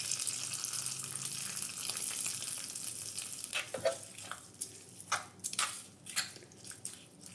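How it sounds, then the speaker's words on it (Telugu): Hot tempering with asafoetida is stirred into a tomato, mint and coriander chutney, first a steady sizzle, then a run of wet clinks and scraping stirs near the end, close by with no talking. "ఇప్పుడు ఈ పోపుని మనం ఈ పచ్చట్లో అయితే కలిపేసుకుందాం."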